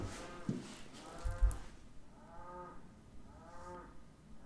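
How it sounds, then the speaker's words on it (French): A neighbour's cow moos repeatedly, two drawn-out lowing calls with harmonic bands rising and falling, moderately distant and fairly faint, with a soft thump early on and no talking. "Ça, c'est la vache de mon voisin."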